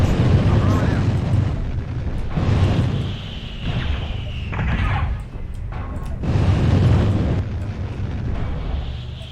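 In the mech combat game MechWarrior Online, a destroyed Shadow Cat mech erupts in deep rumbling explosions, booming bursts that swell and fade over several seconds while a synthetic cockpit voice speaks over them.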